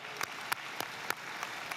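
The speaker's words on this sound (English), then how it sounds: "Let's clap it up for the Dean" Faint applause for the Dean at the GW School of Business undergraduate commencement, heard as a sparse, evenly spaced run of distinct claps, distant and quiet.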